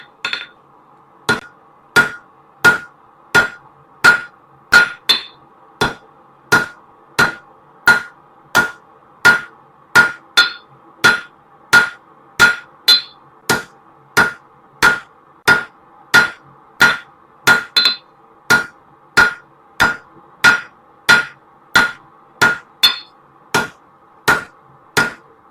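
Hot metal is struck on an anvil while an eye hook is forged: a long, steady series of sharp, ringing hammer blows at an even rhythm, close and loud, with no talking.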